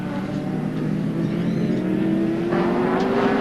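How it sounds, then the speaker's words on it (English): Touring race cars at Oran Park in 1990, including Nissans and a Sierra, with a loud, steady engine drone that rises in pitch as a car accelerates, heard continuously from fairly close by. "Mark SKAIFE, of course, driving the second Nissan here today. Just about to be lapped by Jim Richards."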